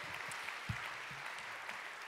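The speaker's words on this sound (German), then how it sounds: "Applaus für Jasmo" An audience claps steadily at a talk event, a soft, even patter with faint low voices murmuring underneath.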